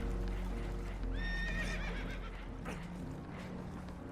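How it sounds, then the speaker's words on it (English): Spooked horses on a boat taking on water in the Red Dead Redemption 2 video game give a sharp whinny midway, over a constant low rumble of water and some hoof clatter. "Horses are spooked, and we're taking on water."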